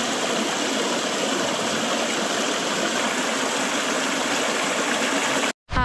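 A river in the Mourne Mountains gives a steady, loud broadband rush of flowing water that runs unbroken for several seconds before a sudden cut.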